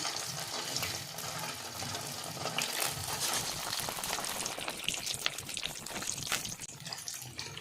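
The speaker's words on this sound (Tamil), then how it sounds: "நம்ம இட்லி போட்டு பொரித்து எடுத்துக்கலாம்." Leftover idli pieces fry in hot oil, giving a loud, continuous crackling sizzle with dense bubbling that stays close and fills the whole stretch with no talking.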